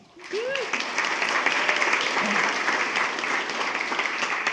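Audience at a school board meeting applauds and cheers for an elementary school principal, steady dense clapping sustained throughout with a brief whistle near the start.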